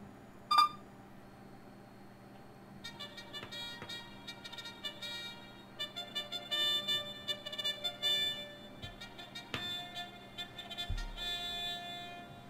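A song plays from an Arduino voice-activated MP3 player with a MOVI voice recognition synthesizer: a thin, quiet tonal melody through a small speaker, starting a few seconds in after a brief click and continuing steadily.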